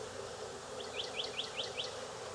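Festooning honey bees from a swarm being hived in Jacksonville, Florida make a constant low drone, and a quick run of small high chirps comes in midway.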